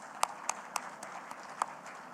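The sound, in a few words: audience applause for speakers and moderator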